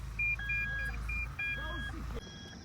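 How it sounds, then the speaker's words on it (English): The car alarm of a Toyota Prado stuck in soft mud beeps repeatedly in short tones, a quick chiming pattern over low engine hum. "The alarm sounds are beeping everywhere in the Prado."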